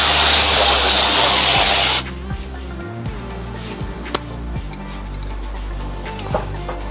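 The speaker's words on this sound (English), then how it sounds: "Let me get the air hose in here." Compressed air from a hose blasts into the engine bay of a 1971 vehicle in a loud, steady rushing hiss for about two seconds, then cuts off, leaving quieter shop noise with faint knocks and clicks.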